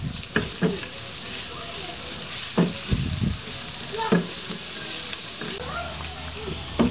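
Garlic fries in a pan with a steady close sizzle, broken by repeated scraping and stirring knocks; a voice speaks softly underneath.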